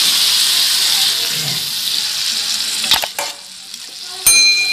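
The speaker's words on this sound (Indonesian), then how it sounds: "tambahkan air kaldu tadi." Broth poured into a pan of cooking tempeh and tofu, a steady hiss of sizzling and liquid giving way to a few sharp clatters of utensils near the end.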